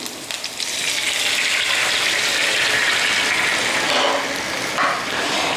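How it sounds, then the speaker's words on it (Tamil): A cup of water poured into a hot pan of fried chopped coconut while making aval kozhukattai, giving a steady sizzling gush that runs the whole time and fades slightly near the end. "இப்போ இதில் ஒரு கப் அளவு தண்ணி சேர்க்கலாம்."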